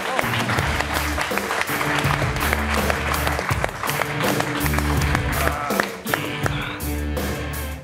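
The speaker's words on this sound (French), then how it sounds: "Veuillez applaudir deux des héros" Television studio audience applauding two futsal players as they are welcomed, steady dense clapping sustained throughout over a pulsing music bed.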